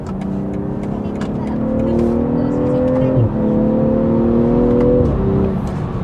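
A BMW M340i with an eight-speed automatic and winter tires pulls hard under acceleration on a test drive, its engine note rising in pitch through two upshifts, loud and close from inside the cabin.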